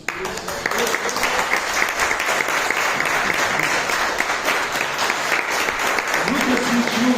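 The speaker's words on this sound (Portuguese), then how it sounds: "Você pode aplaudir a Jesus por isso?" A church congregation applauds during a sermon, sustained dense clapping from many hands that fills the room steadily for several seconds, with a faint voice underneath near the end.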